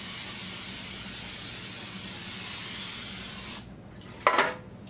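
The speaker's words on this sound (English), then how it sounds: "First thing I'm going to do is spray my pan" Non-stick cooking spray hisses steadily onto a 9 by 13 baking pan for several seconds, cuts off, then gives one short final burst.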